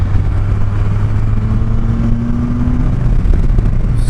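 An F3 motorcycle accelerates hard in third gear along Ohio back roads, its engine roaring loud and close with a steadily climbing pitch under heavy wind rush.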